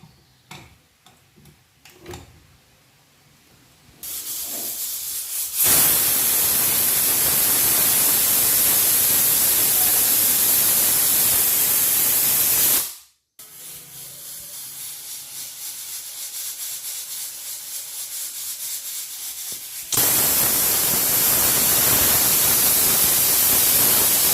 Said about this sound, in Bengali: প্রেশার কুকার একটা সিটি মেরে নেব প্রেশার কুকার গ্যাসের উপর বসিয়ে দিয়েছি